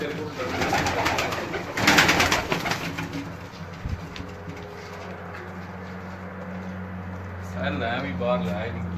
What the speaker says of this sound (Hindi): जी आमिर भाई जी, आपको एक और केज में लेके जा रहे हैं, आपको कबूतरों का शौक करवा रहे हैं।